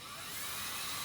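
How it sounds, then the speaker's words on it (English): A power drill runs at high speed boring a pilot hole into a tree limb, a continuous whining buzz, close and loud for about a second. "I'm also going to zip a screw in, drill a pilot hole"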